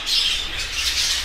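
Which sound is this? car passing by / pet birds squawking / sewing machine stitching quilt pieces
pet birds squawking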